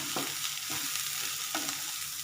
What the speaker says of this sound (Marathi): आपण हे साधारण 2 मिनिट आपण हे वाटण परतून घेणार आहोत